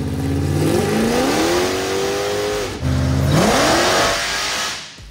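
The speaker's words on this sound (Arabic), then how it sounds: "هياخد العربيه ويطلع بيها على الداينو عشان يدوس اول دوسه ويشوف المحرك هيطلع كام حصان" A Toyota Supra fitted with a supercharged Hellcat V8 roars on a dyno, climbing through two hard, loud revs with a brief lift between them, then easing off at the end.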